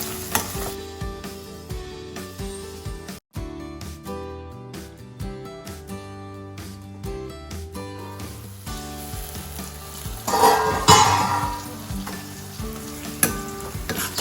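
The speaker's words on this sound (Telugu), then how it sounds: "ఉల్లిపాయలు, పచ్చిమిర్చి, ఎండు రొయ్యలు ఇవి 3 కూడా చక్కగా వేగనివ్వాలి." Onions, green chillies and dried prawns frying in a pan for a ridge gourd prawn curry, a steady loud sizzle with occasional stirring scrapes and a louder burst near the end.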